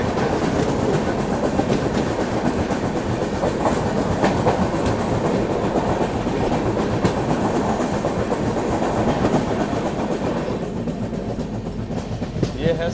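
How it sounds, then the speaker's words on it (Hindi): The Garib Rath Express, running from Hazrat Nizamuddin to Chennai, passes close by a moving train in India, its wagons clattering in a loud, continuous rhythmic clickety-clack that eases slightly near the end. "हजरत निजामुद्दीन से चल के चेन्नई को जाने वाली गरीब रथ एक्सप्रेस"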